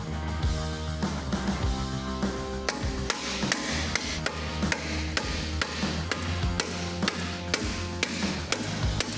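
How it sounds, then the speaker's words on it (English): A coilover being tapped into the spindle during a suspension install on a race-prepared BMW 330i, with sharp metallic taps at irregular intervals over a steady background drone. "We might have to give it a couple little love taps, and then we'll finish up the install."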